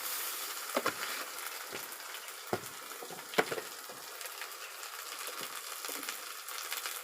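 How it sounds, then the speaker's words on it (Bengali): A spice paste of onion, garlic, cumin and coriander pastes with chili powder, salt and turmeric fries in a pan for a shapla and puti fish curry. The sizzle is soft and steady, broken by a few sharp scrapes of a spoon. "এখন আমি ভালো করে মশলাটা কষিয়ে নেব যাতে মশলাটা থেকে কাঁচা গন্ধ না আসে।"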